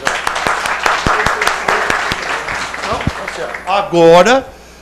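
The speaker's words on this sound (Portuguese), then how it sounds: "Merece uma salva de palmas." Applause from an audience at a debate on televising trials: a few scattered, sharp claps rising briefly, overlapped by a voice talking throughout.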